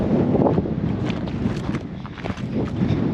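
Strong desert wind buffeting a foam-covered camera microphone, a rough low rumble with gusty swells and rustles, close and steady throughout, no talk.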